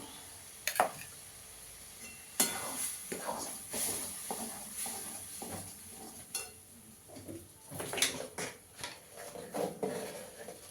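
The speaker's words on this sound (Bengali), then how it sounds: "ভালো করে মিশিয়ে নিতে হবে।" Curry being stirred and mixed in a pan, with irregular scraping and clinking strokes of a spoon against the metal and a faint sizzle underneath, loudest in scattered bursts.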